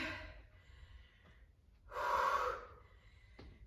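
A person breathes hard after sprint interval exercise, with a few harsh gasping inhalations and a loud, longer exhale close to the microphone, separated by quiet pauses.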